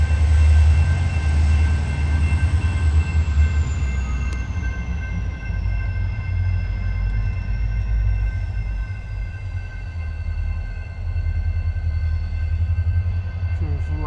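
A train rumbles steadily past a rail crossing in Seattle, low and loud throughout, with a crossing signal's tones ringing over it and a brief horn-like whistle as the cars roll by.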